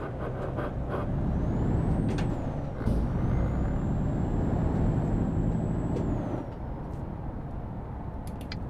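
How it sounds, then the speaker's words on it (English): A Mercedes-Benz Actros truck engine in Euro Truck Simulator 2 rumbles as it accelerates from lights, with a high turbo whistle rising, holding steady, then falling away as the revs drop. "I'm going to put my foot down off these lights and you'll hear that turbo."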